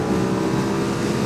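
A Ducati Streetfighter V2 motorcycle's twin-cylinder engine roars steadily under hard acceleration, loud and close with a dense, continuous growl and no speech.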